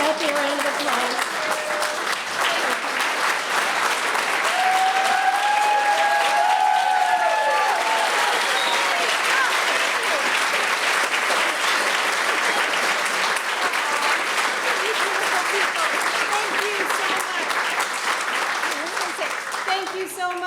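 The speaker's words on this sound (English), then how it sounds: "Can we all stand up and give Kathy a round of applause?" A standing audience at a school nutrition association conference in Vermont gives a long, sustained round of applause, dense and steady for about twenty seconds, with some voices and cheers mixed into the clapping.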